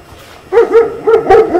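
A dog greets visitors at a lady's home with a few loud, close barks. The barks come in a quick uneven burst after a brief quiet start.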